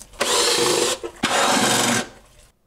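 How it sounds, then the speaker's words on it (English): A power tool zips out the 10 mm bolts of the upper timing cover on a Toyota Tacoma 3.4-liter engine: two close, loud whirring bursts of about a second each, separated by a brief pause. "Now we're going to remove the 6 10 millimeter bolts for the upper timing cover."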